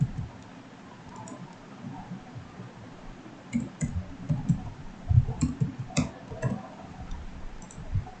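Someone types a name into Microsoft Word 2016 on a computer keyboard, making soft, irregular clicking keystrokes that come in quick clusters against a quiet room hiss.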